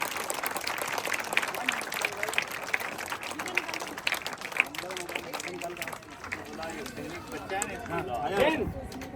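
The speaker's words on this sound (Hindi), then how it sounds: "जोरदार तालियों से स्वागत।" Applause greets a guest of honour, a state BJP farmers' wing vice-president, at a Republic Day celebration at a convention high school, steady clapping mixed with crowd noise and background speech throughout.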